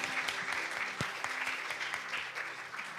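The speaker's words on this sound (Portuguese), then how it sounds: "Dale un fuerte aplauso al Señor." Church congregation clapping in worship, many hands beating in a quick, fairly even rhythm at moderate distance, with faint sung or spoken voices underneath.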